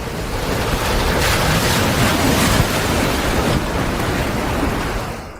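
Ocean waves surge with whooshing wind in a continuous loud roar, like open sea, swelling and easing slightly over several seconds without any speech.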